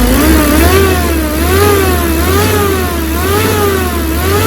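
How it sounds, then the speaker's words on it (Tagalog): A noisy car engine groans and drones loudly as it is revved in short rising swells, with a steady low hum underneath and no talking. "ito yung ugong na sinasabi niya"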